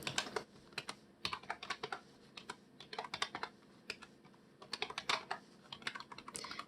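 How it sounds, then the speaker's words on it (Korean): Fingers type on a computer keyboard while entering spreadsheet cells, a quiet, close run of irregular key clicks in quick bursts with short pauses between. "나머지 B2셀부터 타이핑 해줍니다"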